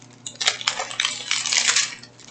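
Crinkly plastic bag of silver-painted diamond painting drills being worked open by hand, a near, busy rustle and crackle with small rattling of the loose drills inside, rising in bursts over about two seconds.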